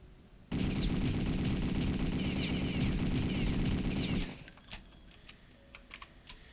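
Thompson submachine gun in the video game Return to Castle Wolfenstein fires one sustained automatic burst of about four seconds, loud and close, then cuts off into quieter game ambience with faint clicks.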